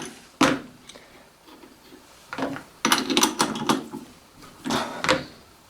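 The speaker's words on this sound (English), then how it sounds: "then tighten the chuck up" A lathe chuck being tightened gives a few separate metallic clicks and clunks in short bursts with quiet gaps between them. The sounds are close and fairly faint, with no talking.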